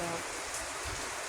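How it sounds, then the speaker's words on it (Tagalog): Heavy rain falls steadily ahead of an approaching typhoon, a dense continuous hiss of drops on surfaces, close and fairly loud, with no talking over it. "Ang ulan dito sa amin."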